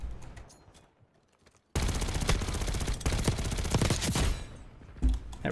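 Rapid automatic gunfire in a shooter video game, a dense, loud sustained burst of machine-gun fire after a quiet stretch of faint distant shots, ending with a few scattered single cracks.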